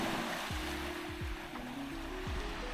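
Water at the Blue Lagoon in northeast Cyprus washes steadily along the shore in winter, a broad continuous hiss of gentle surf with a few soft low splashes, fairly close and with no voices.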